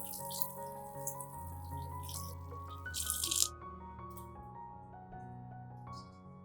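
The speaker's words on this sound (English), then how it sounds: "Then wash the aloe vera under running water." Tap water runs and splashes over an aloe vera leaf being washed, faint and uneven, with a brief louder gush midway beneath soft background music.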